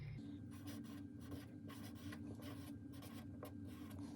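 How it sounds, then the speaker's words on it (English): Pen scratches out a word on a paper treasure coin, a faint, continuous close scribbling rasp over a low background hum. "I'm going to copy the word onto my treasure coin"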